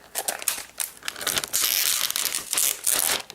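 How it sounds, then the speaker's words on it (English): Protective plastic film is peeled off an Asus Transformer Pad Infinity mobile keyboard dock, making loud close crinkling and tearing rustles in repeated bursts with longer continuous stretches. "First thing we need to do is peel off this plastic."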